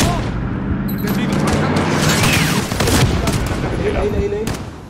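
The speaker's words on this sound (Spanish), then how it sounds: "¡Buen disparo, Kai!" Video game gunfire rattles in dense bursts of shots and booms throughout, loud and busy, with voices calling out over the action.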